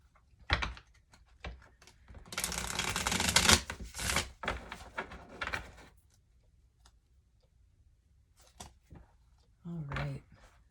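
Tarot cards are shuffled by hand close up, giving a dense riffling burst followed by scattered soft taps and slides. Quiet handling sounds follow between the shuffles, and a voice is heard briefly near the end.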